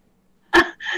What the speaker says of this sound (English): That was the dog burping.